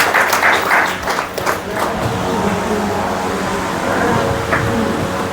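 An audience at a birthday celebration gathering applauds to welcome a singer, loud clapping at first that thins into a crowd murmur and faint tonal sounds.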